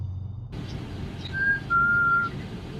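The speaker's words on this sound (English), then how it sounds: "Out of nowhere, a person's whistle can be heard." A short, clear whistle rings out twice in quick succession, close and fairly loud over a low steady background hum.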